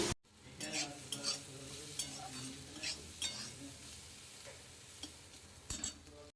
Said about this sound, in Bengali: এদিকে করলা ভাজাটা বসিয়ে দিয়েছি